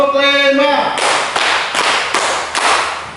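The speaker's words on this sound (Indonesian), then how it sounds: "tepuk 2, tepuk 3, tepuk 4, tepuk 5" A classroom group claps a counted rhythm during a sociology lesson. A voice is heard first, then a sequence of about five sharp, loud claps follows at a steady pace.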